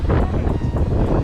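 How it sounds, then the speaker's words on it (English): Strong wind buffets the microphone outdoors at a kitesurfing spot in Michigan, a loud, continuous low rumble with slight gusting swells. "It's a little windy out here, friends."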